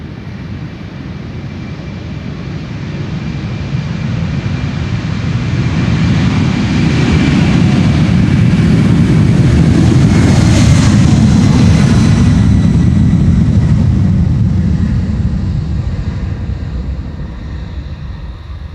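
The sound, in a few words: jet airliner taking off from Polderbaan runway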